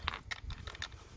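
A ratchet clicks while turning a nut during a stage 3 clutch install on a 1986 Fox-body Mustang with a swapped 4.6 engine: a few quick, faint metallic clicks in a short burst, close and dry.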